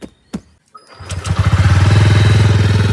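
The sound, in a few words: motorcycle engine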